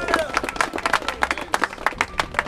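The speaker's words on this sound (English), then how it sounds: "let's give them a big round of applause" An audience at a Senior Olympics cycling gathering claps, giving crisp, uneven claps from a modest crowd at close range with faint murmuring underneath.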